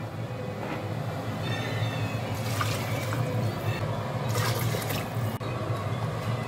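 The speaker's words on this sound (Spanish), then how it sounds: "Y ahora las cubrimos de agua." Water poured into a pot of lentils and vegetables for a stew makes a steady rushing, splashing fill that runs nearby without a break, no voices over it.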